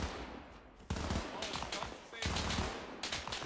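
Machine gun fire from a building in ArmA 3, set in a 1944 D-Day crossroads battle: two loud, sharp bursts of rapid shots close by, with a quieter stretch between them and voices in the background.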